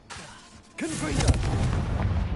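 A Confringo fire-blast spell from Hogwarts Legacy erupts after a short lull, a sudden loud burst followed by a dense, rumbling crackle that sustains to the end.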